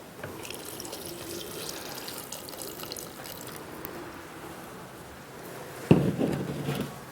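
Half a cup of water is poured into a mix of oat milk for vegan ricotta, a soft trickle building to a louder, splashy pour near the end, close and without talk.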